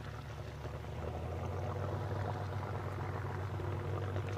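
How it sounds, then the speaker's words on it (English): A Spitfire's aircraft engine runs out of sight behind bushes at Glasgow airport, a steady low rumble and drone holding at an even level throughout, somewhat distant and with no voices over it. "You'll probably just hear the engine feathering up."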